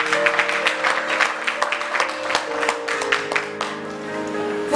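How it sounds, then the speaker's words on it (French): A church congregation applauds, with a steady crowd of hand claps filling the room under a held musical tone. "On acclame le Seigneur."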